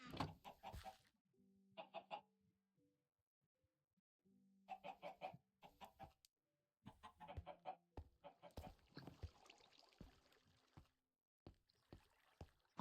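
Chickens on a Minecraft chicken farm give short bursts of game clucks with pauses between them, and a soft splash-like sound comes in here and there. All of it is quiet, and no voice is heard.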